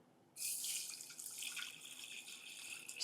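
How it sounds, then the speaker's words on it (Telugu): Water poured into a vessel for a pepper and lemon drink, a steady close splashing stream starting abruptly after a brief quiet moment and continuing without talk. "ఇందులో మనం వాటర్ వేసుకుందాం"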